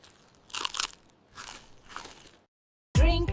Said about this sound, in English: Eat the yummy sandwich.